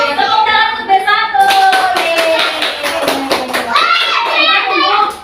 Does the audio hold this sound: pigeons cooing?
no